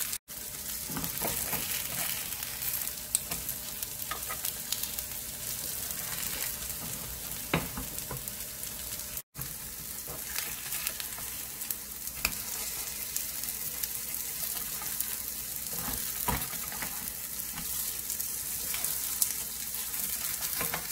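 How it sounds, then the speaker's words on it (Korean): A gochujang lettuce pancake fries in a hot oiled pan, giving a steady, close sizzle and crackle that runs unbroken from start to finish with no talking. "노릇노릇하게 구워주세요."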